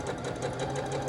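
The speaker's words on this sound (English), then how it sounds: "sew right at the cross or a little bit above it" A sewing machine stitches cotton quilt pieces for a mystery quilt, running steadily and loudly up close with a fast, even mechanical whir throughout, with no talk.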